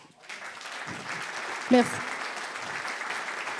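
An audience at a morning business breakfast applauds as a club manager is welcomed onto the stage, a soft, steady patter of many hands with a brief spoken word from a speaker partway through.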